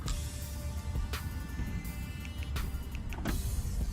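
Door locks of a 2008 Pontiac G8 actuating as the key unlocks it: a steady mechanical whir with a few sharp clicks scattered through, close by and without talk.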